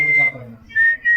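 A person whistles a single sustained high note, breaks briefly, then blows two more short clear whistles close by, with a low voice murmur under the first one.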